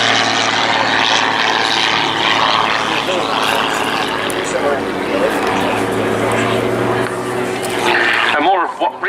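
A propeller aircraft flying an aerobatic display at an air day, pulling vertical into rolls and a double hammerhead stall, its engine droning loud and continuous with pitch shifts, under a commentator's voice throughout.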